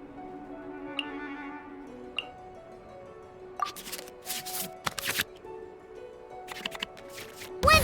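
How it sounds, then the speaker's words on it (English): Cards being shuffled back into a draw pile in the Genshin Impact card game, heard as a few soft flicks early on and then a cluster of brisk, papery riffling bursts over a steady quiet background. "we can select any number of cards in our hand to shuffle back into the draw pile"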